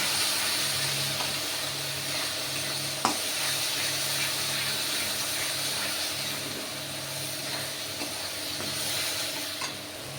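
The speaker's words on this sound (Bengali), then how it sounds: "এবার মশলাটা ভালো করে কষিয়ে নেব।" A spice paste of chili, cumin and coriander powder fries in a pan for a prawn malai curry, giving a steady close sizzle and hiss with occasional scrape and stir clicks, no voices.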